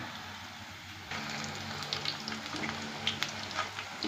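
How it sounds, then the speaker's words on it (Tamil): Gram flour batter poured bit by bit into hot oil starts frying after a quiet second, then keeps up a steady sizzle with scattered pops, close up and alone. "கொஞ்சம் கொஞ்சமாக இந்த மாதிரி பொறித்து எடுத்துக்கிறேன்"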